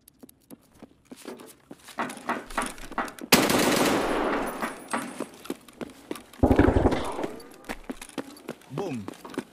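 An M700 rifle fires in the Escape From Tarkov video game on the Labs map, with two sharp, loud shots several seconds apart, heard among game footsteps and talk.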